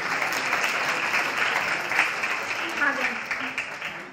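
An audience at an open-house discussion in a meditation hall applauds a correct quiz answer with a soft, steady wash of clapping heard at a distance, with a faint voice underneath.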